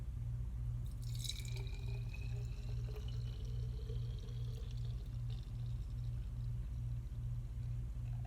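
Floor wash concentrate being poured into a container, a faint trickling liquid pour with a few drips over a steady pulsing low hum in the background.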